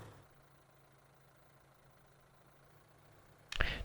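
A tractor engine idles steadily in Farming Simulator 2013, a low, even drone with a faint tonal hum, ending in a brief louder burst of sound.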